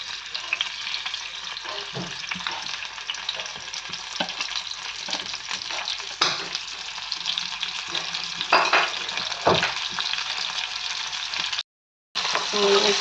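Onion fries in plenty of hot oil for keema, a steady crackling sizzle broken by scraping stirs, cutting out for a moment near the end.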